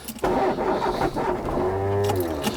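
A 1968 MINI 1275C, a classic Spanish-built Mini, cranks and catches on a chilly morning in city traffic, the engine settling into a steady low idle close by.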